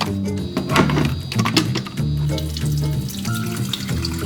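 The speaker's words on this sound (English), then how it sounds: "So we're gonna fill this up with water." Tap water runs steadily into a container, a continuous splashing rush with some clinking of the vessel, close by and fairly loud.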